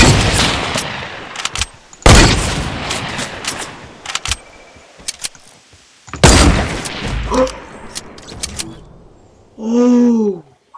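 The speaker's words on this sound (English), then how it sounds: "I'll try a hunting rifle here" Rifle shots in the video game Fortnite ring out as several loud, sharp cracks with short echoing tails, spaced irregularly amid quieter game noises, ending with a brief tonal in-game chime.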